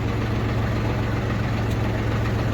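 A tractor engine idles steadily with a low, close hum while its hydraulics lower a New Holland 757C backhoe, with no distinct change in the sound and no talk.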